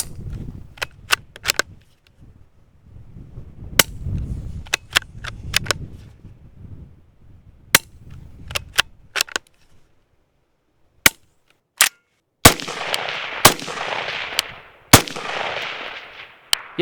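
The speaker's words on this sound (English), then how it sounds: "300 blackout we're testing is semi-automatic, and the action and trigger reset might seem louder than the shot itself" Suppressed semi-automatic 300 Blackout rifle firing a series of sharp, irregularly spaced cracks with mechanical action clatter, some shots close together, over low background rumble, with a burst of hissy noise near the end.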